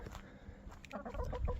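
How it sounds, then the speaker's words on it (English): Chickens cluck nearby in short, throaty bursts, growing busier and louder toward the end over faint background noise. "Being bothered by chickens the whole time."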